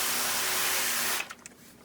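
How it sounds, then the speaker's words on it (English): A spray bottle mists the inside of a seed-sprouting container in one loud, steady hiss lasting about a second, then cuts off into a few faint clicks and handling sounds. "So I'm going to go ahead and spray the inside of this,"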